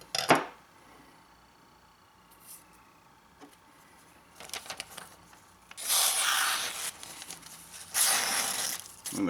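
Paper slicing with a Spyderco knife on thin phone book pages during a sharpness test: two crisp hissing cuts, the second near 6 s and another near 8 s, close and fairly loud, with faint handling noises before and no talk.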